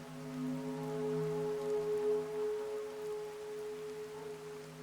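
Steady rain falls in the Fallout: Tale of Two Wastelands game world, a continuous hissing patter layered over sustained tonal game ambience, with no voices.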